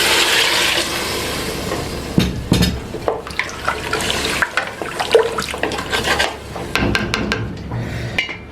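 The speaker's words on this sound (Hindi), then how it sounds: "तो ये 2 लीटर पानी इसके अंदर शामिल करने लगे हैं।" About two liters of water is poured into browned meat masala in a karahi: a sustained rushing splash with a sizzling hiss and scattered clinks, loud and close, no talk.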